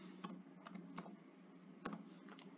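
Several faint, scattered keystrokes tap on a keyboard as an address is typed, coming in a loose, irregular rhythm over quiet room tone.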